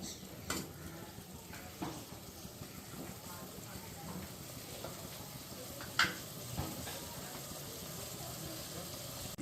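Cashews and capsicum sautéed in a pan on a gas stove for a paneer dish: a steady low sizzle with scattered stirring scrapes and a few utensil knocks, heard fairly faint throughout.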